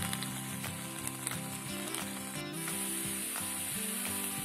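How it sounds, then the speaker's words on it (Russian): Mushrooms sizzle in a dry frying pan as their excess water cooks off, a steady close hiss with a faint tonal hum underneath and no voices. "Грибы мы будем вылаживать на сухую сковородку, для того, чтобы лишнюю воду выпарить из них."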